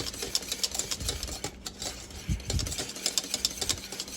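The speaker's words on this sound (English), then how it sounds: "Don't be scared, but you gotta keep whisking" A whisk scrapes and clicks rapidly against a pan of Jim Beam bourbon caramel, a close, busy metallic rattle in uneven bursts with a brief pause midway.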